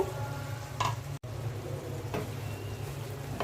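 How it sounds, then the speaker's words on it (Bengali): Eggplant pieces hitting a hot pan for a hilsa, eggplant and potato curry give a faint, close sizzle with soft stirring scrapes and a couple of brief crackling bursts; no one talks. "এখন আমি বেগুনগুলো দিয়ে দিচ্ছি"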